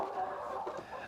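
Chickens around nesting boxes give soft, low clucks and murmurs, a few quiet overlapping calls close by with no talking.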